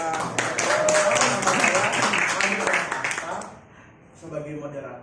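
Students in an Indonesian language classroom clap for a group presentation, a lively mix of clapping and cheering voices for about three seconds before it dies down and a single voice speaks.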